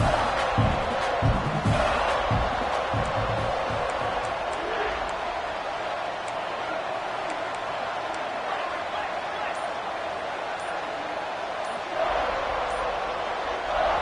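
A stadium crowd roars at an away college football game for the Maryland Terps, a loud, continuous wash of noise with voices talking over it.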